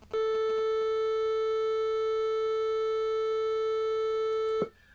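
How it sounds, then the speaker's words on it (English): A pure 440 Hz sine test tone from a software tone generator plays loud and unwavering for about four and a half seconds, starting and stopping abruptly. "Click OK, then play the track to listen to the tone."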